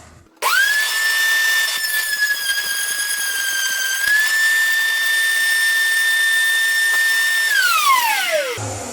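A table-mounted router cuts a round wooden tenon, spinning up sharply into a loud, close, steady high whine that holds for several seconds, shifts slightly in pitch as it cuts, then winds down.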